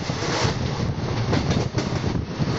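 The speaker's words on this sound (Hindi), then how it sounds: "सामने से ट्रेन आ रही है WAP7 लोकोमोटिव के साथ।" A passing train hauled by a WAP7 electric locomotive near Delhi Shahdara gives a close, steady rumbling roar with wind buffeting, and no pause or speech.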